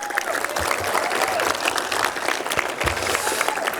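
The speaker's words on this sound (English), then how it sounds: "we got some cheering out there" A crowd at a fire and lifeguard appreciation dinner applauds and cheers steadily, a dense wash of clapping that continues throughout with no talking.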